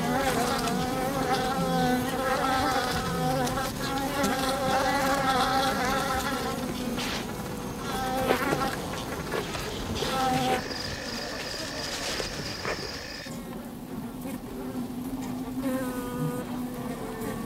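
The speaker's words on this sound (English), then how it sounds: "The bees check and recheck any remaining cells for honey" Honey bees buzz steadily around a hive raided by a honey badger, a dense droning hum from many insects close by, with other tones and faint background sounds mixed in.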